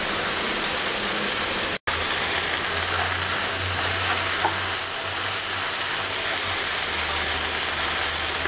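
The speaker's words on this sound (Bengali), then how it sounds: "এবার কিছুক্ষণ পরপর নেড়ে চেড়ে ভেন্ডি সিদ্ধ হওয়া পর্যন্ত রান্না করব।" Okra and shrimp fry in a pan with a steady, dense sizzle like rain on a surface, plus a low hum and occasional stirring scrapes; one brief dropout near the start, no talking.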